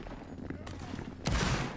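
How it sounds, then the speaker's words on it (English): Musket gunfire in a Napoleonic Wars video game battle: a sharp crack at mid-clip, then a loud, dense volley of overlapping shots toward the end over steady background din. "Keep shooting, guys."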